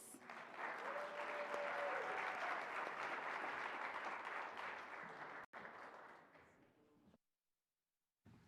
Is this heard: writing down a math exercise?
no